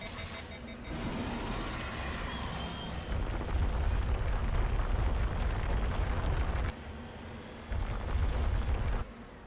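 Enemy gunfire and explosions in a video game come as a continuous rumbling barrage that surges louder in bursts, heavy low booms and crackling noise layered over a steady background hum.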